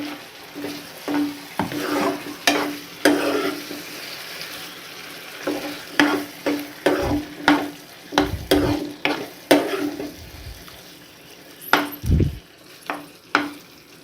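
Masala mushroom gravy fries in oil in a pan while a spoon stirs it, giving a series of sharp scraping clacks over a steady sizzle, with no one speaking.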